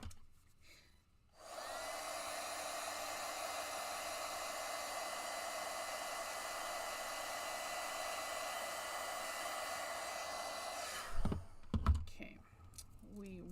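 A heat tool warming a craft piece blows a steady, loud whooshing roar for about ten seconds, then cuts off, followed by a few brief handling clunks and rustles.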